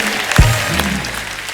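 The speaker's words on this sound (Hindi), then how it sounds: "जोरदार तालियां हो जाए हमारे चारों मेहमानों के लिए" Studio audience applause for four guests on a Hindi TV comedy show, a short burst of clapping with a soft thump near the start, moderately loud and fading slightly.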